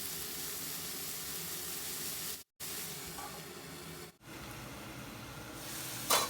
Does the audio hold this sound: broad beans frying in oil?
yes